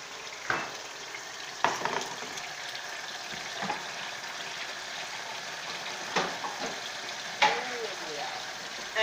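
Seasoned red snapper fries in a pan, a faint steady hiss punctuated by several sharp clatters and knocks of handling in the pan, spread unevenly through the stretch.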